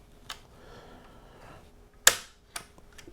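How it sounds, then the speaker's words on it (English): An AT44 PCP airgun rifle being decocked gives one sharp, loud metallic snap, followed by a couple of fainter clicks and light handling noise against a quiet room. "I'm going to go ahead and decock the rifle."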